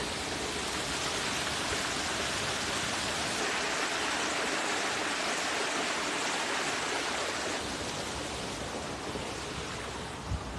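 Steady, dense rush of running water, a broad hiss like a stream or heavy runoff, continuous and fairly close with no voices.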